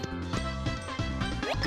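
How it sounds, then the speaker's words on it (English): A Wii remote's built-in speaker plays Super Paper Mario game sounds, a quick run of small tinny tonal blips repeating a few times in a row, close and moderately quiet. "You like that controller sound? That's the sound of my Wii remote."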